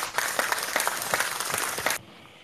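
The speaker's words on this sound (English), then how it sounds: "That's a nice applause." Applause from an audience at a music night, a short burst of many hands clapping close and lively that cuts off abruptly, leaving quiet room tone.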